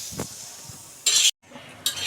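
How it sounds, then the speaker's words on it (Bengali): Garlic and green chilies fry in a pan, pressed and scraped with a spatula, giving short bursts of bright sizzling between dull scrapes and a brief silent break. "এভাবে চেপে চেপে ভাজতে হবে আমাদের মরিচগুলা রসুনগুলা"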